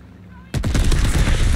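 Sudden loud burst of automatic gunfire in Call of Duty: Vanguard, starting abruptly after a quiet moment and continuing as a dense, rapid volley close up.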